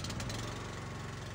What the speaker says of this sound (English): This is me starting up the engine